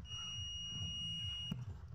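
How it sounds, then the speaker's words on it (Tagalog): A continuous high-pitched electronic buzzer tone sounds steadily while a car alternator diode is tested and found shorted, with a small click near the end. "Tumutunog nga yung buzzer."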